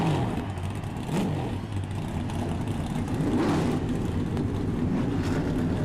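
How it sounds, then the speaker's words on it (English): Stock cars in the iRacing simulation at Bristol Motor Speedway fire up and rev, a loud layered engine roar swelling and surging continuously with no talk over it. "Drivers, start your engines!"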